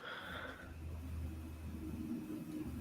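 Truck engine revving in a truck driving video game, a low, quiet rumble that rises and holds steady for a few seconds with no talk over it.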